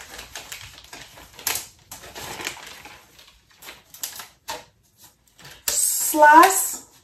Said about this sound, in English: So this is the portable trimmer.